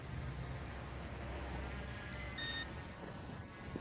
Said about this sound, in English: and the transmitter just beeps